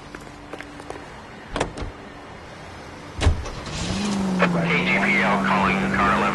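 A car in the L.A. Noire video game: a few door thumps and clicks, then the engine starts and settles into a steady, rising drone as it drives off.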